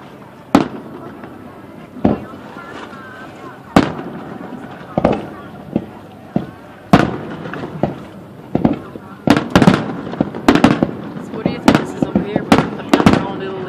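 Fireworks at Sutton Park, a state park, go off as a string of sharp, distant bangs and crackles at irregular intervals, getting denser toward the end, while people talk nearby.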